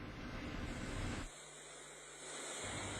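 Water from the Mae Klong river gushes out of a pump station pipe in a loud, rushing roar. It drops to a softer hiss partway through, then surges back.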